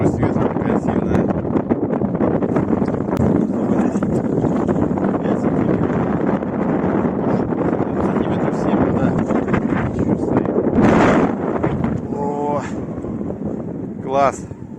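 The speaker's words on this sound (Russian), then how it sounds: "скорость ветра такая сильная" Strong wind gusts roar steadily across an open, snowy hunting spot during a goose hunt in Komi, buffeting the microphone continuously, with a brief louder gust near the end and faint calls over it.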